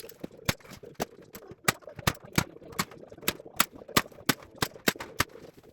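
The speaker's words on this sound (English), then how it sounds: "I cut the steel mesh to size and then mounted it in 2 overlapping layers using a staple gun." Staple gun driving staples through steel mesh, a series of about fifteen sharp, snappy metallic clacks at an uneven rhythm, close and clear against a quiet background.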